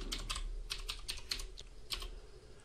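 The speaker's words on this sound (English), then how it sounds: "that root password again, so I'm going to type that in" Password keystrokes on a computer keyboard, with quick clusters of close, crisp key clicks followed by a short pause and a final tap, and no talking.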